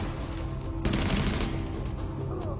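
A burst of automatic gunfire erupts in the video game The Division, a sharp rattling volley following a quieter ambient stretch, then tapering into lingering game ambience.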